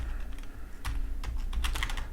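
Code is being typed on a computer keyboard, with quick bursts of key clicks and short pauses between them, close and fairly quiet.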